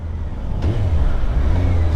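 A motorcycle rides along with a steady engine drone that rises slightly in pitch as it pulls, heard close and fairly loud, with no talk over it.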